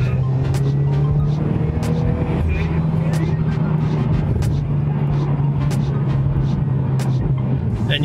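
A street Subaru BRZ fitted with a Vortech supercharger accelerates loudly with a sustained engine drone and rising whine heard from inside, while occupants talk over it.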